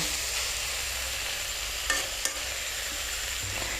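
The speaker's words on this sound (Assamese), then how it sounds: "এতিয়া চাওক মই বিলাহী দিয়াৰ পিছত লৰাই দিছোঁ" Fiddlehead ferns frying with tomato get stirred in a pan, a close, continuous sizzle with a couple of sharp utensil scrapes and clinks, no voices.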